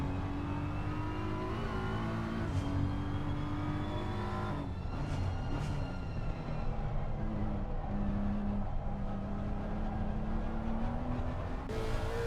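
A close pack of race cars lapping the Nordschleife in ACM Racing, engines droning and shifting as one runs up through the gears, a steady loud mechanical roar with no voices.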